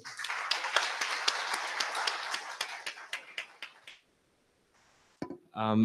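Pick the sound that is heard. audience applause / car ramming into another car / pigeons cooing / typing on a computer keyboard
audience applause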